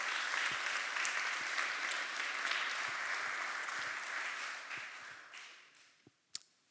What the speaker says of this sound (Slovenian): En aplavz, prosim, za komisijo.